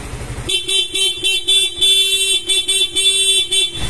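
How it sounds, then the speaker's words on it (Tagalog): Stock horn on a Yamaha Sniper 155 motorcycle honked in about nine short rhythmic beeps, loud and close, with no talk over it. "Stock horn ni sir."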